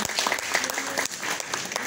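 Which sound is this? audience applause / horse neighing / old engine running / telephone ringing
audience applause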